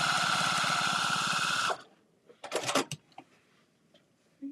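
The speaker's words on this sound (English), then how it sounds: "My sewing machine does not sound good." A home sewing machine runs steadily and loudly with a fast rhythmic whir, then stops abruptly, followed by a few clunks and rustles of fabric while binding a T-shirt quilt.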